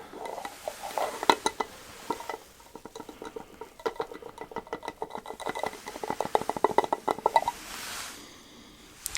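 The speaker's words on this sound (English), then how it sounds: "I need to be delicate with that lid sound." Lid of a pickle jar being handled gently in a quiet close-up setting, a string of small clicks, taps and light scrapes in irregular clusters, soft and intimate, no talk.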